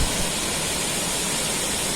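Water pours out of Madurantakam Lake in a steady, full rushing roar with no break or pause, loud and close, and no voices over it.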